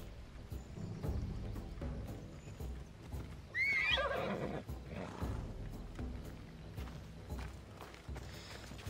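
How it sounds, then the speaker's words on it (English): Horse in the video game Assassin's Creed Odyssey, with steady hoof clip-clop across the clip, a loud whinny near the middle, and game sounds around it. "Faster on horseback."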